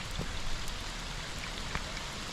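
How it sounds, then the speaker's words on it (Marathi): Steady first monsoon rain patters by a village river in Konkan in a continuous hiss, with occasional louder drops, no voices. "पाऊस पण वाढला होता"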